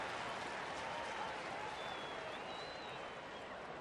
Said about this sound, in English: It's a nice round of applause from the crowd here at Wrigley Field